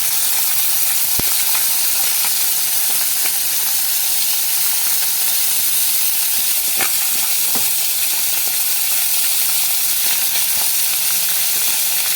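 Fresh Ganges prawns sizzling in a pan, layered over fish in a tangy tamarind curry, with a steady loud hiss of frying and a few faint clinks, no talking.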